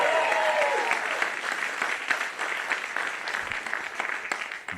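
Audience at a CONvergence 2021 convention game show applauds steadily, a dense even wash of clapping from a full room with a few cheers, holding loud for several seconds before easing slightly at the end.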